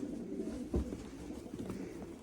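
Game pigeons offered for sale coo softly and low in a quiet room, a faint murmuring coo with one slightly louder burst near the start.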